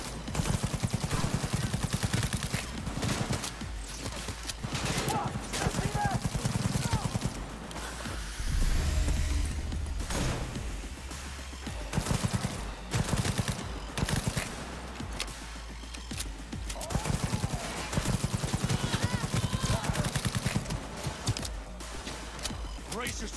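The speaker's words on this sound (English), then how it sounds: "This smart rifle is really good." Smart rifle fire in the video game Cyberpunk 2077 comes as dense bursts of rapid gunshots that run almost continuously, loud and up front, with game sounds and voices over them.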